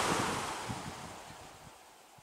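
A Polar Wind HF-S45X pedestal fan spinning down, a soft rushing whir of air that slowly fades, with faint low thumps as the blades slow.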